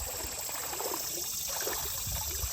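Creek water trickles steadily over a riverbed near a ghost town, a constant loud babbling wash with no break and no voices.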